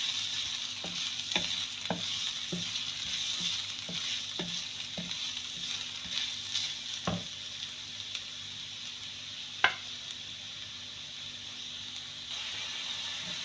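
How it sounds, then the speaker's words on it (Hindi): Carrots and mixed vegetables sautéing in a pan for Singaporean rice, a steady sizzle punctuated by regular scraping stirs from a spatula, moderately quiet and close with no talking. "थोड़ा सा सब्जियों को सौटे करूंगी"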